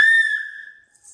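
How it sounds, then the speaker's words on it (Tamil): A child blows a toy whistle in one strong, steady shrill note that fades over about a second, followed by a faint breathy puff, close and loud with no talking. "விசில் ஊத சொன்னா"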